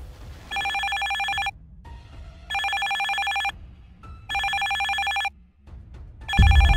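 A telephone rings in repeated electronic bursts, three full cycles of steady ringing separated by short pauses. It is loud and close, with a low background rumble and no talking.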